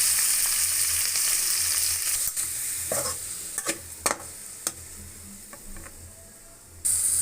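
Chicken pieces frying in hot oil with browned garlic, a steady high sizzle with scattered sharp clicks and scrapes from stirring, close and without talk.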